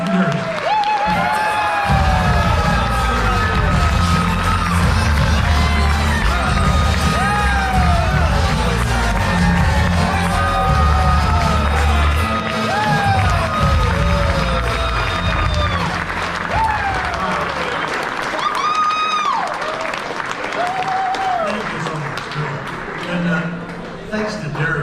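Loud, sustained applause with cheering and whoops from a large gala crowd greeting a Lifetime Achievement Award winner at a housewares charity foundation event, steady for the whole stretch with voices shouting over the clapping.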